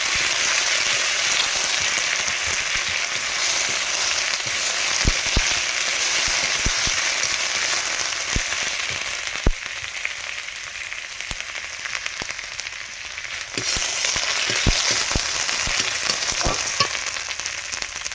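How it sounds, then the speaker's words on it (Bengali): Cumin and ginger paste fries in a pan with a loud, dense sizzle that fills the whole stretch. Sharp spatters and stirring clicks recur, and the sizzle eases slightly midway before surging again. "ওর মধ্যে দিয়ে দেবো জিরে বাটা, আদা বাটা, এর সঙ্গে ভালো করে ভেজে নেব।"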